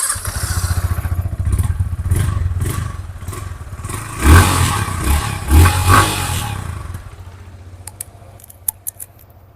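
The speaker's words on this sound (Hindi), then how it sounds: "अब बात करते हैं about the exhaust note of this Yamaha R15।" A Yamaha R15 150cc sport motorcycle's exhaust rumbles close and loud at idle, then swells with a few throttle blips midway before settling, followed by a few sharp clicks; nobody speaks.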